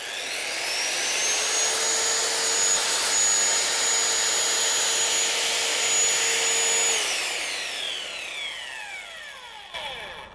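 A circular saw runs off a BLUETTI EB150 portable power station, a loud sustained whining roar that holds steady for several seconds, then spins down with falling pitch as the blade coasts to a stop.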